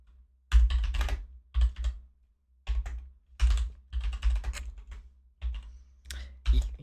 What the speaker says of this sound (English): I know I'm typing very slow and very bad.